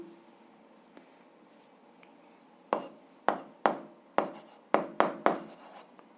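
Pen or pencil strokes on paper while physics exercise notes are written out: a run of about seven sharp, scratchy strokes in a quiet room, close and fairly loud, with no talking.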